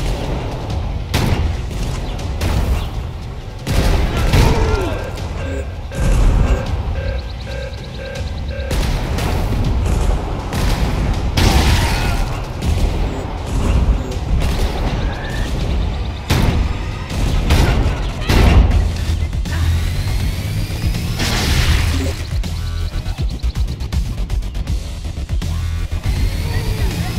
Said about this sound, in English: Shotgun equipped.